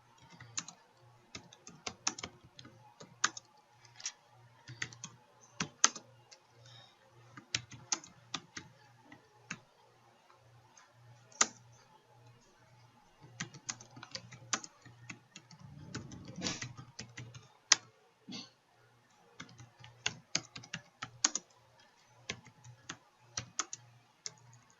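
Typing on a computer keyboard, a quiet, irregular patter of light clicking keystrokes that comes in short flurries with brief gaps, close to the listener and with no speech.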